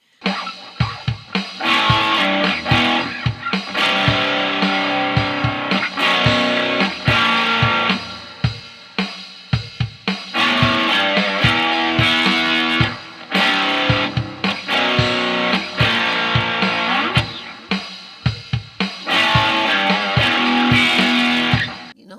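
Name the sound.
guitar through digital reverb pedal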